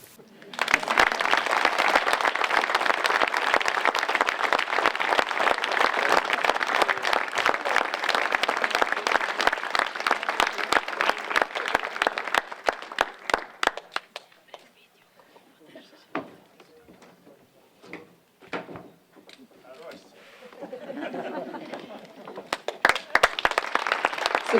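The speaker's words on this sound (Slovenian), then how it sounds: "Seveda zaslužen aplavz." Audience applause at a municipal council's formal awards ceremony, a dense burst of many hands clapping for about fourteen seconds before thinning into scattered claps, with a brief renewed swell at the end.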